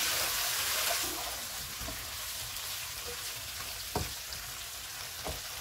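Spices and salted chicken frying in a pot for chicken masala pulao, a steady close sizzle with a few soft knocks of stirring.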